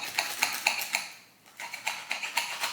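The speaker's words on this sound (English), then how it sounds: "let's cut this sandwich" Sharp rhythmic clicks and scrapes of a knife cutting through a crispy pressed panini sandwich, about eight crisp strokes with a brief pause midway, close and fairly quiet with no talk.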